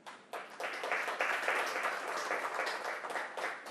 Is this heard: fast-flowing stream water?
no